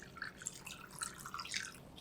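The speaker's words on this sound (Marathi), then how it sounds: "आता यामध्ये पाणी घालूयात नॉर्मल रूम टेम्परेचरचंच पाणी आहे" Room-temperature water trickles and drips into a besan mixture for Maharashtrian pitla, a faint, close run of small splashes lasting about two seconds with no voices.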